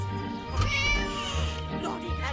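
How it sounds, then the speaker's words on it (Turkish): A cat meows in the Scary Teacher video game, sounding over a steady game soundtrack with some background noise, a short mid-loud call near the start of the moment. "Kedi."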